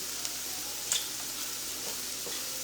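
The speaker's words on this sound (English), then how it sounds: "I'm going to go ahead and do our taco seasoning so you all can hear me while our onions are softening" Onions soften in a hot pan for jackfruit tacos, a continuous even sizzle with faint stirring clicks, close and alone.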